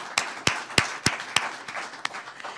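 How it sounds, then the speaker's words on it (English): A small group gives a round of applause for Governor DeSantis at a Florida bill signing: a handful of sharp, separate claps, fairly close and spaced irregularly, fading out toward the end. "So I want to give you one more round of applause, Governor, for your commitment to that"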